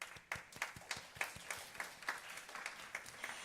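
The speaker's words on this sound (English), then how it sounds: "Please give them another round of applause for those who gave speech today." Faint, sparse clapping follows a school English speech contest, a handful of separate claps in a loose rhythm heard at a distance.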